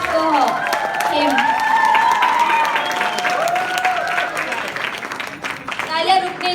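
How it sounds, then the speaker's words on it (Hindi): An audience applauds loudly at a modeling show grand finale in Udaipur, with continuous clapping mixed with shouting and cheering voices throughout. "A big applause for him."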